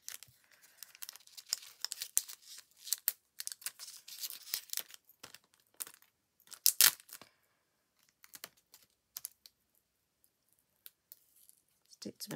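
Red liner tape is peeled from its backing over a craft journal, with scattered crinkling, tearing and clicking bursts separated by quiet gaps, close and fairly soft.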